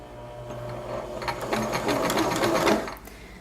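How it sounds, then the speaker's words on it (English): A sewing machine runs a short burst of reverse back stitches, its motor whirring and needle tapping rapidly and close, building in intensity before stopping abruptly near the end. "I press and hold down my reverse stitch button and do 4 or 5 stitches backwards"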